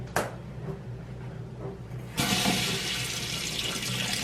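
Candle extinguished in a kitchen sink: a sharp knock and a brief faint hiss, then a tap bursts on and water gushes loudly and steadily into the basin.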